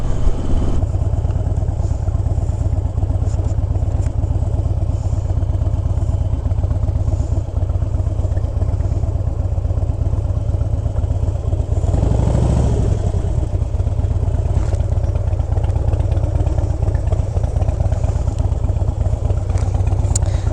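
A motorcycle engine runs continuously at close range, a loud steady throbbing drone with mechanical clatter, briefly swelling around the middle.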